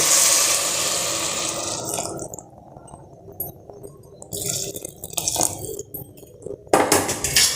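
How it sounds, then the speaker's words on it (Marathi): Hot water poured into khichdi in a pressure cooker, a loud continuous gushing splash at first, then quieter sloshing and stirring with intermittent splashes and a final burst of pouring. "मध्ये आपण तीन वाट्या गरम पाणी घालूया"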